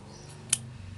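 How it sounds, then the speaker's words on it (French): Scissors snip once through ribbon, trimming its end into a point for a small fabric rose; a single sharp, close cut over a low steady background hum. "vous prenez votre paire de ciseaux, vous coupez votre ruban comme ça en pointe"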